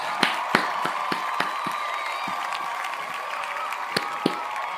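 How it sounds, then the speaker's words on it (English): Scattered hand claps at the end of a workout class, a few sharp isolated claps spread unevenly over a steady background hum, sparse rather than a full applause. "Give yourself a round of applause"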